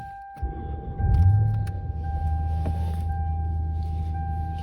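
A 1990 Lexus LS400 engine cranks briefly and catches, then settles into a steady, smooth low idle rumble close by, with a faint electrical whine in the background.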